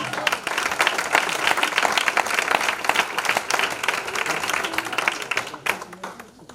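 A church congregation applauds during a sermon, dense clapping that swells and then thins out toward the end, with a few voices mixed in.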